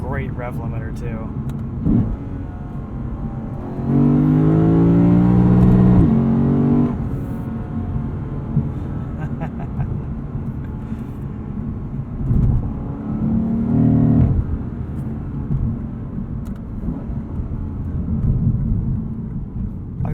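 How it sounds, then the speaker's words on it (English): A 2021 Lexus RC F's V8 engine revs hard up to its rev limiter, rising loudly in two bursts with a steady droning pitch between them, heard from inside the car over a low rumble. "This has a great rev limiter too."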